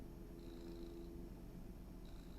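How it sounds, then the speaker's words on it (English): A contented pet cat purring softly up close, a faint low rhythmic rumble held steady with a thin tone drifting above it, no voices. "You might be able to hear him purring."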